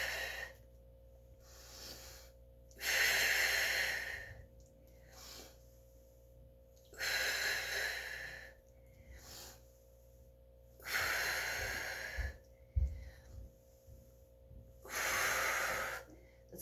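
Four slow, deep breaths during a full-body Pilates workout, each a drawn-out airy inhale and exhale spaced a few seconds apart, close and fairly quiet over a soft background hum.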